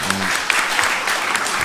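Loud, dense audience applause fills a business dialogue hall, a continuous wash of clapping from a large crowd with a brief tonal sound at the start.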